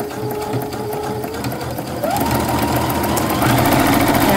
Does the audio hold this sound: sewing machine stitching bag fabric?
yes